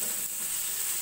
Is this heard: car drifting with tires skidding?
no